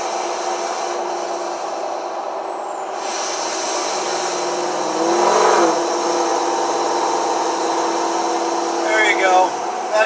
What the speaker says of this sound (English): Mine is a 6-liter Power Stroke, and people have made comments about just wanting to listen to the engine in the background.